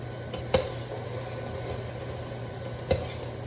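Chopped vegetables and spices stirred in a pot on the stove for green lentil soup: a faint, steady sizzle with two sharp scrapes of a utensil against the pot.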